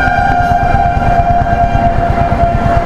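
A local train passes a railway level crossing with a loud, close, steady rumble and rhythmic low pulsing clatter, while a sustained tonal whine runs throughout.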